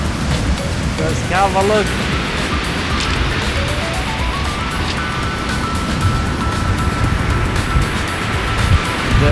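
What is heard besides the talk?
roaring sea waves at the coast in high wind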